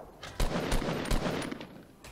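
Grenade launcher fire in Fortnite: Battle Royale bursts out in loud, close booms, three heavy blasts about a third of a second apart over a rumbling, noisy game background.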